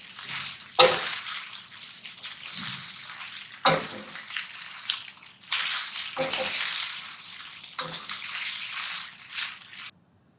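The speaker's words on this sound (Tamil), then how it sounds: "சாதத்தை நல்லா மிக்ஸ் பண்ணிடுங்க" Cooked rice being mixed in a pan for capsicum fried rice, a soft scraping, rustling stir repeated in several bursts with quiet gaps between, close and fairly faint.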